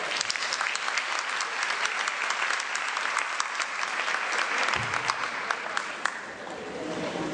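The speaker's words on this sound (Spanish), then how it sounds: "Un aplauso fuerte, por favor." An audience at a mathematics education lecture gives the conference speakers a strong round of applause, with sustained, loud clapping from a large crowd that holds steady for several seconds.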